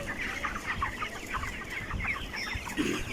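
Broiler chickens and roosters on a farm, many birds clucking and murmuring at once in a busy, continuous chorus, moderately close, with no one speaking.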